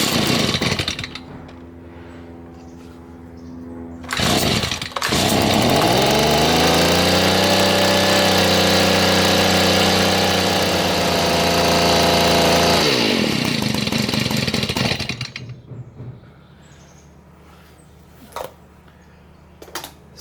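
A Stihl leaf blower engine sputters and catches, then roars at steady high speed for about eight seconds before dropping back to a rough idle; close and loud, with no talking.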